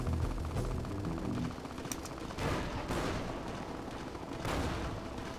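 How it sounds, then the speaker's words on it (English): In the Fallout New Vegas game, a missile barrage fired at a turret: rapid bursts of explosive gunfire and blasts that crackle and boom in clusters, loud and dense, with no talk. "Let's just barrage that real quick, wait for our missiles to reload."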